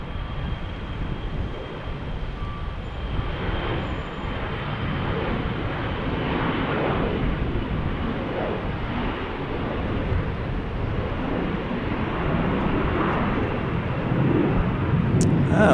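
A jet airliner roars on its takeoff run at Salt Lake City airport on a rainy, cool day, a broad steady rumble heard from a distance that slowly grows louder over the whole stretch, with no talk.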